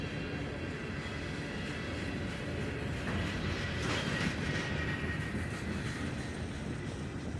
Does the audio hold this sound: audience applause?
no